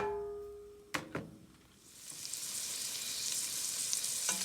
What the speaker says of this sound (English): So oil's pretty warm now, so we'll add our onions in.